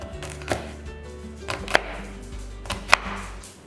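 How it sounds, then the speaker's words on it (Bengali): A knife chops capsicum and ginger on a board for a stuffed lentil chilla, three or four sharp, separate cuts spaced about a second apart, close and clear over quiet kitchen hum. "ক্যাপসিকাম আর আদা সবই কুচি কুচি করে কেটে নিতে হবে।"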